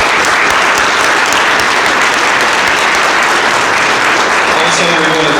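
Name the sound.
audience applause for candidates at a forum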